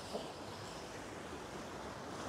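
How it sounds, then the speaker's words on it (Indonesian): Ocean waves on the south coast wash in as a constant broad roar of surf mixed with wind, steady and enveloping with no voices. "Alun di ombak ini karena ada tekanan dan angin dari sana sehingga tertimbul ombak seperti ini."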